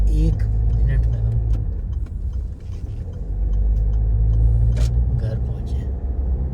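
Inside a car stopped in road traffic, a low steady engine and road rumble fills the cabin, with faint clicks and rattles over it and no clear talk.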